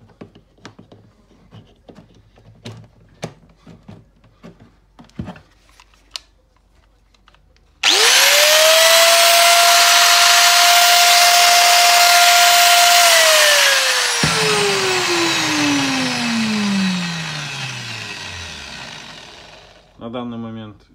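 A DeWalt 4257 angle grinder with its nuts removed spins up with no speed regulator, running at maximum revolutions as a loud, steady high-pitched whine for several seconds, then winds down with a falling tone after scattered knocks and handling sounds.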